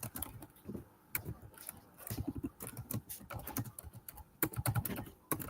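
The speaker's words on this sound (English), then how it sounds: "I'm typing." Typing on a computer keyboard: a fast, irregular patter of key clicks, close and moderately quiet, with no talking.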